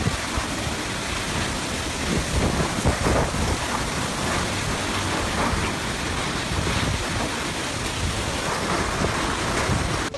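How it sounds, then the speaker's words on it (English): A violent storm in Sakhon Nakhon, Thailand, roars as a dense, continuous wash of heavy rain and wind, loud and unbroken for ten seconds, with low rumbling underneath and no voices. "relentless wind hammers debris and sheets of rain against the windows"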